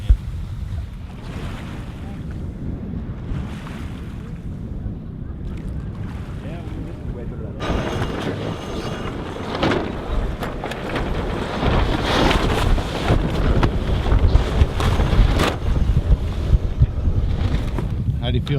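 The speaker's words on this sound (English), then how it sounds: "How do you feel sailing this close to the rocks, John?" A sailboat sails close to rocks in strong wind, with steady wind buffeting the microphone, hull and water noise, and a sudden rise in rushing wind and spray partway through. People talk under the noise.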